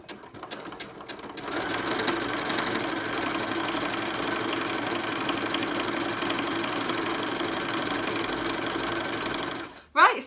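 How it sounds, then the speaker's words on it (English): Sewing machine running a 3-step zigzag stitch to attach elastic onto homemade knickers, a loud steady close mechanical hum sustained for several seconds after a short start, ending abruptly. "we're going to use a 3-step zigzag stitch on our machine"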